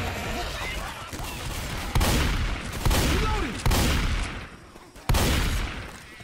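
Repeated bursts of gunfire in Left 4 Dead 2, loud and close, with a few heavy volleys standing out over a constant din of shots.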